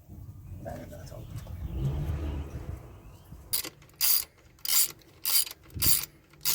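A ratchet tightens the fuel injector bolts on a Mazda 2 (Demio), giving about five sharp, close bursts of rapid clicking, each roughly half a second long, after a stretch of low, muffled handling noise.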